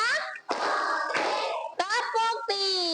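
Children clapping in rhythm during a classroom clapping game, short claps broken up by children's chanting voices.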